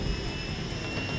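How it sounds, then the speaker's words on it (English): A lifeguard rescue helicopter heard as a steady, fairly loud engine and rotor roar that holds constant throughout, with no voices. "The helicopter lands, the lifeguards get onto the side of the skids, and then they take off."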